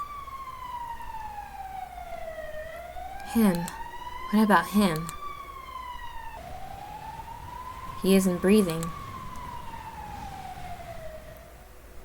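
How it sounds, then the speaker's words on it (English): A video game ambulance siren wails steadily, rising and falling in long sweeps throughout, while people speak over it in short bursts. "Is that siren an ambulance"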